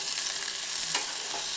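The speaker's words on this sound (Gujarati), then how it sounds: "એક ડુંગળીને આપણે નાના ટુકડામાં સુધારીને લીધી છે તો તેને પણ નાખી દઈએ. તેને પણ આપણે સાતળી લેવાની છે." Chopped onion sautés in hot oil, a steady close sizzle with a brief stirring scrape partway through, no voices.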